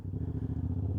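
Yamaha R7 motorcycle engine idling close by, a low throbbing rumble with rapid even pulses, steady and unaccompanied for about a second.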